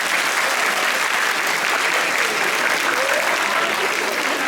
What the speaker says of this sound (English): Again, give them a round of applause.